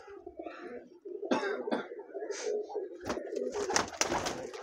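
A Giribaz pigeon let out of its loft outdoors, with soft cooing notes, a cough-like sound and a burst of flapping wings late in the clip, fairly close.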